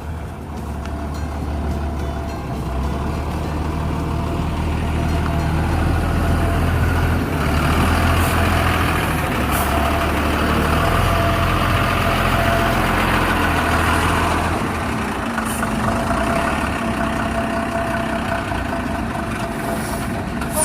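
A trailer truck idles with a steady low heavy-engine rumble while reverse parallel parking, the drone swelling slightly mid-way with faint higher mechanical whine, continuous and fairly loud with no talk.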